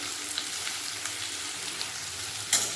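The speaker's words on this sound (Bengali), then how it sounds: "তেলের মধ্যে দিয়ে দেবো কুচুনো পেঁয়াজ" Chopped onions, five thinly sliced, sizzle in hot oil with whole cumin for a mutton curry, a steady bright crackling hiss with a brief stir or spatter near the end, close and alone.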